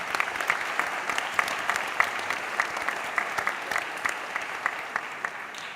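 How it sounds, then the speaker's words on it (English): An audience applauds a ceilidh band and a CCÉ group at a traditional Irish music concert, a steady wash of clapping with sharper individual claps standing out, moderately distant and continuous throughout. "Please give them a big round of applause."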